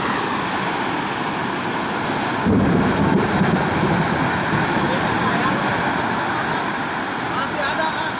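A tornado sweeps through Rancaekek in Bandung and Sumedang with a dense, continuous roar of wind that thickens into a heavier rumble partway through, loud and unbroken, with faint voices mixed in.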